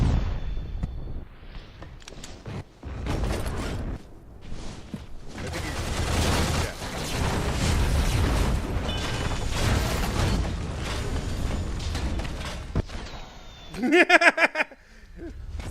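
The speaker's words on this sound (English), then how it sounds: "That sonic boom just messes you up." Sonic boom blasts in the Shadow Complex video game, a run of heavy booming explosions and rumbling impacts over several seconds, loud and dense, with a voice near the end.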